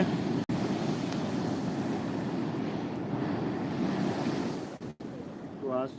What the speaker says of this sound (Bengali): তো আজকে মারাত্মক লেভেলের ঢেউগুলো উঠছে বন্ধুরা